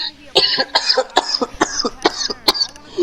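Repeated harsh coughing, a rapid series of sharp bursts close to the microphone, with a few throat-clearing sounds between them.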